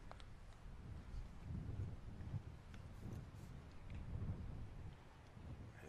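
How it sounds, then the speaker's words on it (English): Steady wind buffeting an outdoor microphone at an overcast cricket ground, a low rumbling roar that swells and eases in gusts throughout, with no voices. "It is very overcast, very windy."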